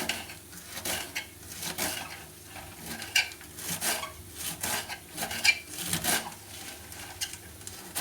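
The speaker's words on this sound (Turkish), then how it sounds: "pende yeşilliğimi doğrayayım." Fresh garden lettuce and greens are chopped with a knife on a board, a steady rhythm of soft rasping cuts and light taps repeating about every half second, close and moderately quiet.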